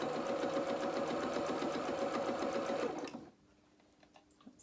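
Sewing machine stitching a seam through felt for a doll's bloomers, running steadily and loudly for about three seconds before stopping abruptly, leaving near-silence with faint small handling sounds.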